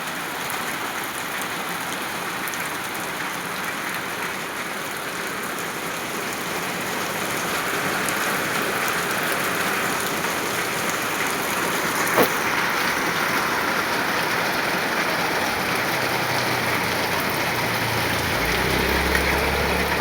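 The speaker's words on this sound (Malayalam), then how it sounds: "ആഹാ, എന്താ മഴ നോക്കിയേ" Heavy rain pours down steadily at a work site, a dense, continuous hiss of drops striking surfaces nearby for the whole stretch, with no voices.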